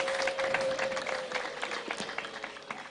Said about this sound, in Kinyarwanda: impundu, amashyi n'ingoma bivuge.